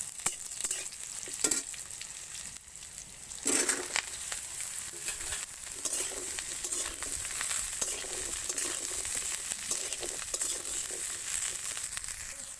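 Chopped potato, eggplant and chikni greens fry with onion in hot oil for a chorchori, with a steady close sizzle and repeated scraping, clattering stirs against the pan throughout.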